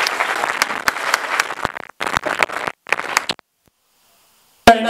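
A conference audience applauds the campaign's highest fundraiser in short bursts of lively clapping, broken by brief gaps, a stretch of silence, then another sudden burst of claps.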